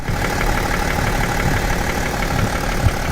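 A BMW X6 engine runs steadily nearby, a coarse, clattering tractor-like drone that stays loud and even throughout with no voices.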